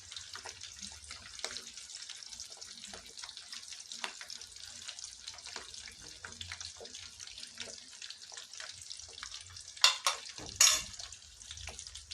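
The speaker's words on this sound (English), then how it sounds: "I'm just going to throw the potatoes into hot cooking oil." Plain potatoes, unsalted, dropped into hot cooking oil for a quick simple meal, sizzle and hiss steadily at low level, a soft continuous bubbling crackle with a couple of brief louder bursts near the end.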